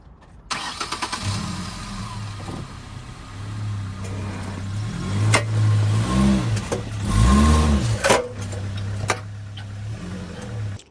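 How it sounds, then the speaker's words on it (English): A 2011 Ford Ranger engine runs close by, rising and falling in revs as the truck creeps up onto ramps, steady and fairly loud throughout, with no talking. "the first thing we need to do is put this up on ramps"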